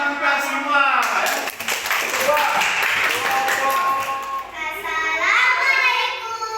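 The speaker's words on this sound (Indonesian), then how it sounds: "Tepuk tangan buat kita semua." Third-grade pupils in an Islamic religious education class clap together in a brief, fairly near burst, with children's voices talking and calling out over and around the clapping.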